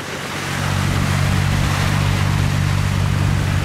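A fishing boat's diesel engine, stuck in shallow water, swells to full throttle in the first half second and then holds a loud, steady, droning roar with a deep throbbing tone.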